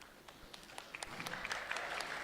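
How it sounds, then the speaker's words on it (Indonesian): Sparse, light clapping from a small stand-up comedy audience, scattered individual claps that build slightly toward the end, faint and distant. "di sini yang gak punya Twitter boleh minta tepuk tangannya?"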